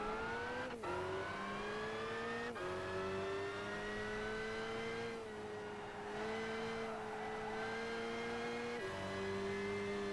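A German Touring Car Championship race car engine in Gran Turismo 5 drones and revs continuously, pitch climbing through gears with a few abrupt shift drops, loud and steady with no talking.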